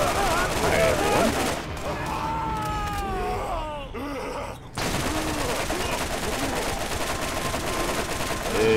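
Dense bursts of automatic gunfire in the Borderlands video game run almost continuously at close range, break off briefly amid groaning creature sounds, then resume as a steady rattling barrage.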